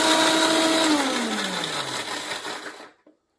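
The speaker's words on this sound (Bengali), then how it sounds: "তো কাজুটা বেটে নিই।" Electric blender grinding cashew nuts for butter chicken, a loud close whirring motor whose pitch slowly drops as it winds down, then stops abruptly with a small clunk.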